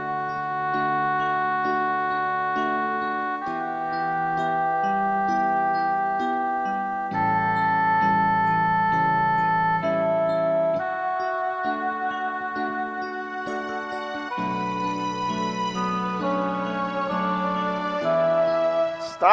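An oboe voice on a keyboard, dropped an octave, plays a slow sustained melody with smooth held reedy notes and steady level, no talking.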